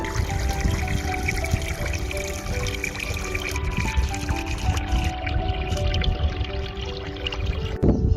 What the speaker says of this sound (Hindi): पूरा एक्सप्रेसवे का पानी इस जगह पर एक साथ आता है और फिर आगे जो रेन हार्वेस्टिंग सिस्टम डला है ना, उसमें जाकर ये इकट्ठा हो जाता है